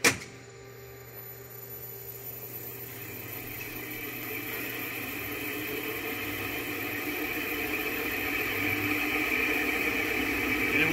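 A balancing machine spins up to speed, its steady mechanical whine and hum rising gradually in pitch and loudness over several seconds, continuous and close with no talking.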